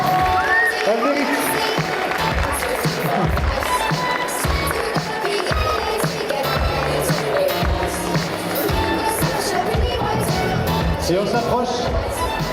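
Audience applause at a Snow White cosplay contest at a convention, a dense continuous wash of clapping and crowd noise held throughout, with a host's voice speaking over it.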